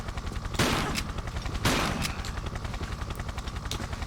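Two short, loud bursts of MP5 fire in Tomb Raider III Gold: The Lost Artifact, about a second apart, over a steady rumbling drone of machinery.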